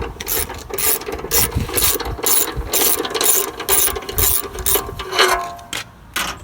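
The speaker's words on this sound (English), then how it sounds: "I've got my ratchet in my hand, and I'm just going to go ahead and remove the 4 bolts that are holding the housing." Hand ratchet loosening the bolts on a Wacker Neuson plate compactor belt cover, a steady run of quick clicking pawl strokes in short bursts, close up and alone.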